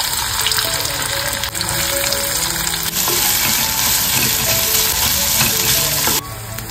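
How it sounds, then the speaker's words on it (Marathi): Onion crackles in hot oil in a kadhai for tempering, a loud, dense, unbroken sizzle that fills the whole stretch, with faint stirring noises underneath. "फोडणीसाठी आपण इकडे कांदा घालतोय."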